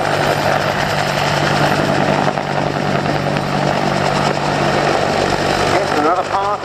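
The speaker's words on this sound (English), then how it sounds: "And another lovely engine note, Andy, that of the Bristol Siddeley Gnome turboshaft" An HKR-10 helicopter with a Bristol Siddeley Gnome turboshaft engine roars steadily and loudly at an air show, with turbine whine and rotor thrum holding throughout.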